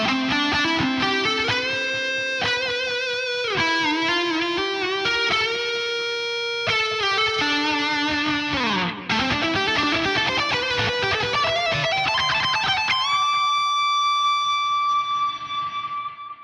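An electric guitar plays a sustained, bending lead line heavy with echoing repeats, the tail washing out into long delayed trails at the end.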